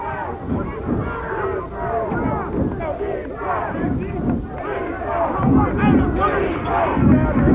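A football crowd cheers for player Martez Little at a Muny youth bantam game between the Sims Raiders and George Monroe, with voices and shouts rising and falling throughout.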